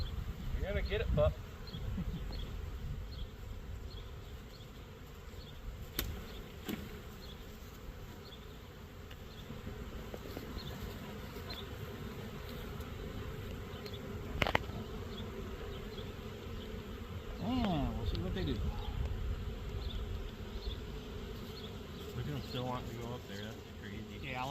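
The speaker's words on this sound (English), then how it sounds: "there's a lot of bees in the air right now." A honey bee swarm fills the air with a dense, continuous buzzing from many insects close around, individual bees zipping past louder at moments, while people talk briefly over it.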